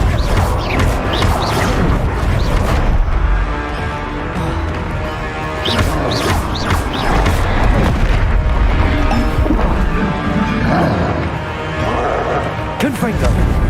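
A Bombarda blast spell going off during Hogwarts Legacy combat, heavy booming explosions and crashing impacts in a dense, loud continuous battle mix with a voice shouting spell names throughout.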